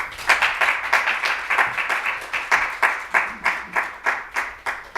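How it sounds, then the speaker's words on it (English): An audience welcomes guests at a talk on Italian literature in the United States with rhythmic clapping. The claps are loud, close and evenly spaced, continuing steadily through the whole stretch without speech. "please welcome them with a very warm applause"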